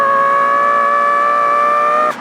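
A voice imitates the Lexus LFA V10 engine, holding a loud, steady, high, buzzing harmonic tone for about two seconds before abruptly cutting off.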